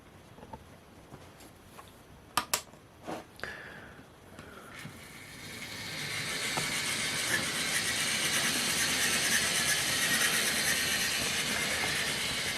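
Hornby Dean Goods model steam locomotive running on a model railway track, a few sharp clicks early on, then a steady hissing whir that rises and holds as it runs nearby.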